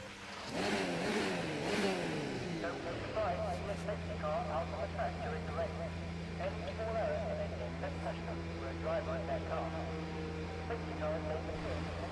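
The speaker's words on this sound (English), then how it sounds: "Engine fired, we're set." A Formula One car engine in the F1 2019 video game at Monaco revs and sweeps up and down in pitch for a few seconds, then settles into a steady droning idle, with muffled radio talk and ambient noise layered over it.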